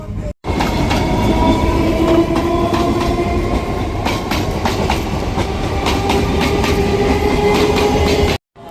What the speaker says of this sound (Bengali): ট্রেন যাচ্ছে চলো